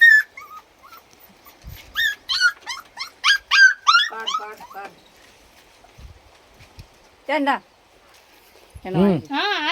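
A puppy whimpers and yips in a series of high, wavering cries, close by, with short pauses and occasional low thumps between them.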